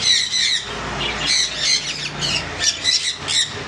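Conure parrots at a bird sale give shrill, rapid squawks over and over, close and loud, with chattering bursts overlapping one another.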